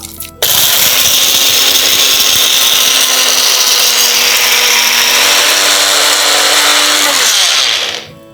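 A kitchen mixer grinder roars loudly and steadily for about eight seconds, grinding curry leaves, black pepper, cumin, dry ginger and rock salt into powder, starting abruptly and winding down at the end, with no talk.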